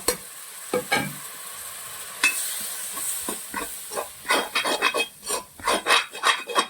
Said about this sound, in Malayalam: ആദ്യം നല്ലവണ്ണം നമ്മൾ ഈ മസാലയൊന്ന് മൂപ്പിച്ചെടുക്കുകയാണ്